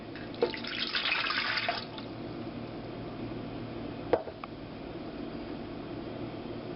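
Water pours into the pan of a Cuisinart convection breadmaker in a short close splashing stream, then a quiet background hum with a single light knock.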